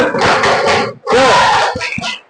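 A sixth-grade class shouts a loud spirit chant in unison, two forceful group bursts separated by a brief pause and ending with a couple of sharp claps, all close and energetic.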